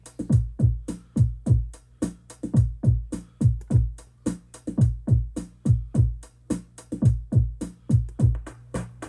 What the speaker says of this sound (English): And now it's playing on the sampler,